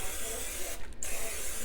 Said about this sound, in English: It's some olive oil non-stick cooking spray, and it's good.